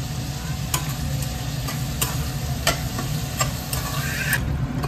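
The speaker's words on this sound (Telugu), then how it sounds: "ఆనియన్స్ కొంచెం తొందరగా ఫ్రై అవ్వాలంటే కొంచెం సాల్ట్ వేసుకోవాలండి." Onions frying in a pan with a little salt, part of making a Telugu crab masala and prawn curry, give a steady soft sizzle with occasional sharp clicks of stirring against the pan.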